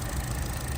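A 2012 Chevrolet Cruze engine runs at idle, a steady close drone with a faint rattling texture, unbroken for the brief moment.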